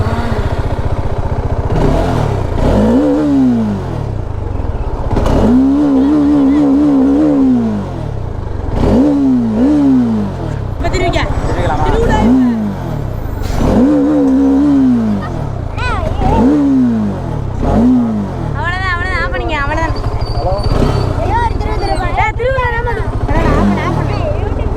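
A Bajaj Dominar motorcycle engine idles close by and is revved repeatedly in short bursts, each rise and fall of pitch clearly audible, with people talking over it throughout.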